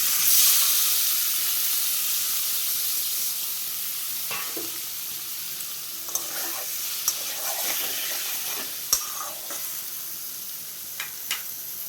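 Paneer pieces fry in hot oil with salt and turmeric in a kadai, starting as a strong hiss that eases into a steadier crackle, with scattered utensil clinks later on.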